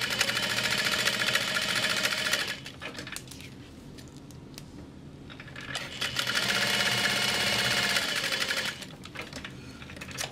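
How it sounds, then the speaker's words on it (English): Sewing machine top stitching the long raw edges of a large fabric bag, running in two steady bursts of rapid even stitching with a quiet pause between them, close and clear. "I'm just going to top stitch the long raw edges and fold around the snap hook."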